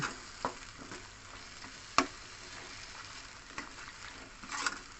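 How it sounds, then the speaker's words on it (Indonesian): Snapper head curry with tofu being stirred in a pan, soft scrapes and occasional sharp clicks of the utensil over a faint, quiet sizzle. "Kita aduk terus pemirsa sampai tercium aroma wangi, baru kita masukin santan."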